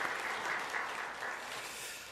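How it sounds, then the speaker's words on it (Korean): Congregation applauding during a Sunday church service, a soft, distant, even patter of many hands that continues steadily for a couple of seconds. "우리 그동안 수고 많으셨는데 박수로 격려하겠습니다."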